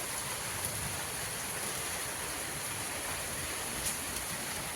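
Steady rain falls outdoors among garden plants, a continuous even hiss of drops on surfaces with no voices, holding at a constant moderate level throughout.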